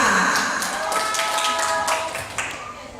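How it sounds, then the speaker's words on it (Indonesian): Audience clapping for a team during a hymn quiz at a church women's fellowship anniversary gathering. Quick claps patter over a sustained tonal background, and a voice is faintly mixed in. "tepuk tangan untuk regu A."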